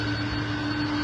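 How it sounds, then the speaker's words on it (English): Engines of a Boeing 747 cargo aircraft hum with a loud, steady whine and rumble, close and continuous throughout the brief moment. "which is Boeing 747, commonly known as the king of the sky."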